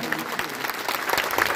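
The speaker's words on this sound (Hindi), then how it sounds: "तालियां।" An audience at a Bhagwat Katha religious gathering claps vigorously, a short, dense burst of close applause from many hands.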